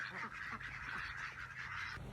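Ducks at a ranch calling in a run of nasal, honking quacks, fairly close and nearly continuous, with no speech over them.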